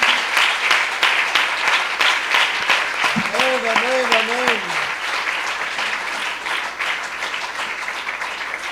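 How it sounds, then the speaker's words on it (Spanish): A church congregation applauds in praise at a Sunday school service, a steady wash of many hands clapping, with a brief voice calling out over it partway through. "Tributemos un aplauso a la gloria de nuestro Salvador"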